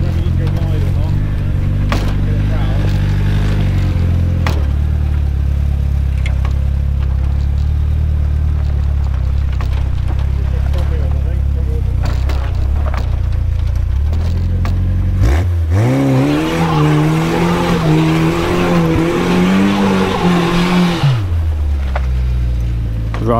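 Engine noise from a car climbing the Blue Hills section of the Lands End Trial, a low steady drone that swells into a louder, higher revving surge near the end before dropping back, heard close to the vehicle.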